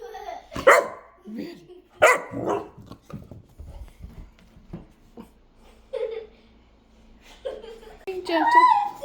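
A puppy barks in short excited bursts close by, mixed with laughter and a voice talking around it during rough play.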